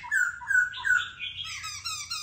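A laughingthrush sings a varied run of clear whistled and chattering phrases, close and fairly loud, alone for the whole two seconds.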